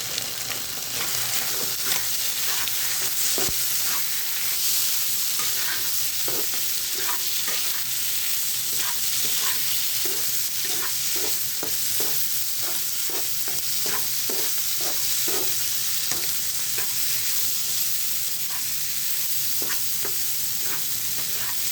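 Vegetables frying in a pan for Maggi masala, a steady close sizzle broken by repeated sharp scrapes and clicks of stirring, with no voices.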